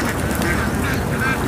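A huge flock of roughly ten thousand ducks heading home across a field to their pen, giving dense, continuous quacking that stays loud and steady throughout, with no talk.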